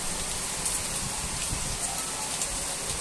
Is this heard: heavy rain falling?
yes